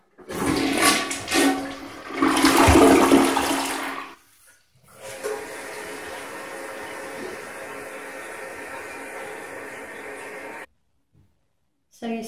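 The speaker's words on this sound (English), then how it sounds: "So now we're gonna do the big flush" American Standard H2Option toilet doing its big flush: a loud, close rush of water surging for several seconds, then a long gurgling refill that cuts off abruptly.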